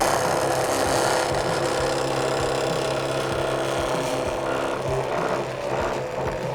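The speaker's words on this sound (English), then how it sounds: "So you got a little deburring tool. You clean the inside up." A small hand deburring tool rasps and scrapes inside a freshly cut exhaust pipe during a Chevy L83 engine swap, giving a continuous close scratching with repeated strokes and no talking.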